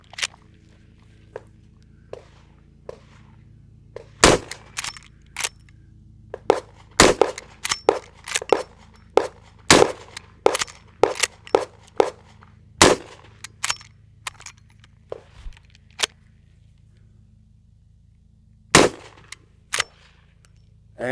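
A Henry All Weather side loading gate rifle fires .44 Magnum rounds with 180 grain loads outdoors: several sharp, loud shots spaced a few seconds apart, separated by lighter clicks and clanks of the lever action.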